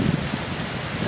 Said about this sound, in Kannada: ಸ್ವಲ್ಪ ಮಳೆ ಹೊಡೋ ಸ್ಟಾರ್ಟ್ ಆಯ್ತಾ